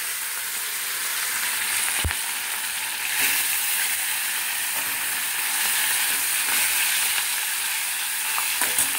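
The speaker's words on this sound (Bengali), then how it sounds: "এবার এক এক করে মাছগুলো আমি ছেড়ে দেবো।" Fish pieces frying in hot oil, a loud, continuous bright sizzle with a few small pops and crackles, close and unbroken for the whole stretch.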